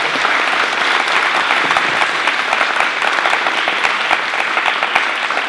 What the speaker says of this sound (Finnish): Ensin tietenkin aivan upeat aplodit upeelle